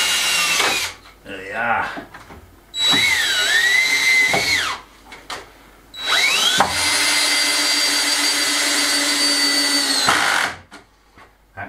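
Power drill driving a fixing into place during an indoor renovation, in several loud close whirring bursts that rise and fall in pitch, with short pauses between them and a brief spoken remark.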